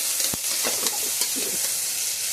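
Onions sizzle in hot oil in a pan, a close, steady frying hiss with a few brief stirring scrapes and clicks over a couple of seconds.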